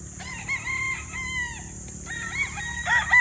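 Gamefowl roosters crow several times and hens cluck in a farmyard, with overlapping calls from more than one bird at moderate distance over a steady background hum.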